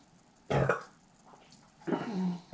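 Two throaty belches after sipping a 9% ABV Sierra Nevada Little Things beer, a short loud one followed by a longer rumbling one about a second later, close to the mic with no talking.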